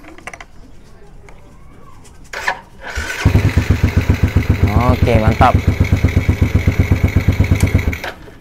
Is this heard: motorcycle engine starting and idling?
yes